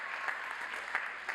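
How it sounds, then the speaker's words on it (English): Steady applause from an audience at a university spring commencement ceremony, continuous clapping with a few sharper bursts, fairly close and with no talk over it. "can you please stand so we can give you a round of applause?"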